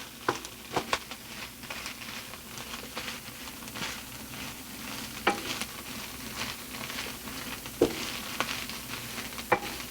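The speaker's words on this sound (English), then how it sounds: "We're just going to stir those in. Make sure they're coated." Wild rice salad ingredients stirred in olive oil, a soft continuous sizzle and patter with occasional sharper spoon clinks against the pot, quiet and close.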